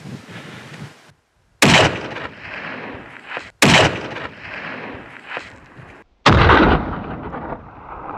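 Three loud, sharp hunting-rifle gunshots boom across a mountainside in Nepal during a blue sheep hunt, each crack followed by a rolling echo that fades into near silence.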